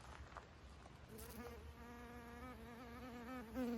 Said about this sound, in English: And oh, look at this happy bee.